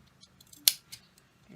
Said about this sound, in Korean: 한 2-3cm 간격으로 가위집을 조금씩 내줍니다.